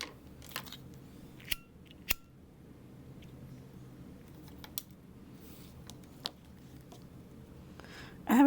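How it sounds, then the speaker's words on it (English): Snips cut through a thread loop while a canvas-style bag is sewn by hand, giving several sharp, close snipping clicks spread irregularly over a quiet background, with no voices. "I'm able to see the loop and I just take my snips through it"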